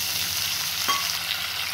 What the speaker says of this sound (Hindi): अब मैं इसमें यहाँ पे टमाटर डाल दूँगी।